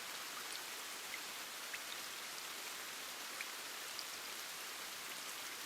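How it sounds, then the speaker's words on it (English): Steady rain falls in a soft, even hiss, with occasional louder drops ticking on a surface, constant and quiet throughout with no voices. "Listen to the rain."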